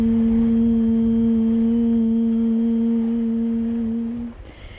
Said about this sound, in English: Exhale with a humming sound.